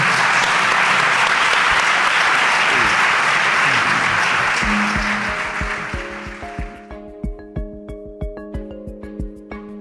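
An audience applauds loudly and densely, the clapping thinning out until only a few scattered, sharp individual claps remain at the end.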